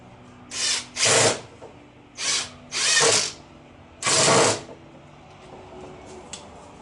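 A power drill drives ordinary wood screws into sticks for a garden trellis, heard as five short, close bursts of whirring separated by brief pauses, with no speech.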